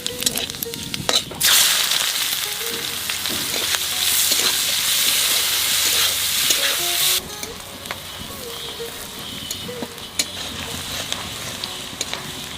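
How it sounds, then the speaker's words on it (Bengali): Cumin seeds and bay leaves dropped into hot oil, a loud bright sizzle bursting in suddenly, spitting steadily for several seconds, then falling away to quieter crackling and light clinks. "তেলের উপর দিয়ে দেবো কটা জিরে আর তেজপাতা।"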